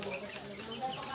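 Eleven-day-old chicks of various chicken breeds, such as Sonali, Silkie and tiger, chirp and cheep softly in a brief, busy flurry close by.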